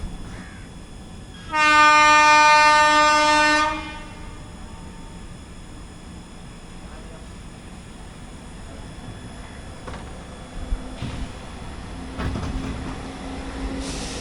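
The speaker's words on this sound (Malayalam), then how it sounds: "ത്രീ 777 പുണെ ഷെഡിൻ്റെ ഹുബ്ലി നിസാമുദ്ദീൻ എക്സ്പ്രസ് ആണ്." A locomotive horn blares loud and sustained for about two seconds from the Hubli–Nizamuddin Express hauled by Pune shed engine 777, then a low rumble of rail traffic continues on a foggy line with faint crow caws.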